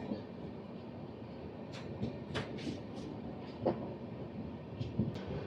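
On board the Rayalaseema Superfast Express 12794 from Nizamabad to Tirupati, a low, steady rumble fills a quiet coach, broken by scattered rattles and metallic clicks.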